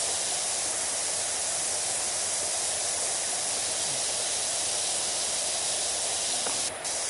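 A pressure washer in PowerWash Simulator sprays in one steady, loud hiss that runs unbroken from start to finish, with no voices.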